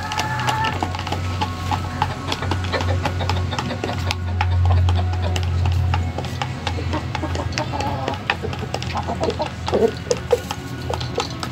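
A hen forages for bugs in a backyard flock of Silkie and laying hens, giving soft, irregular clucks close by over a low steady hum, with scattered small ticks and scratches.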